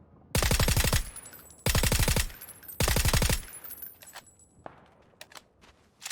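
Automatic gunfire in the online battle royale game PUBG, played on console: three loud, sustained bursts of rapid shots in quick succession, followed by scattered quieter single shots and game sounds.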